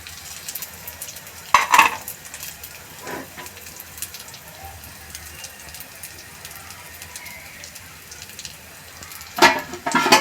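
Dangelu, a savoury batter cake topped with chili and coriander, cooks in a pan over very low gas with a faint, soft sizzle and a few louder clatters or scrapes near the start and end.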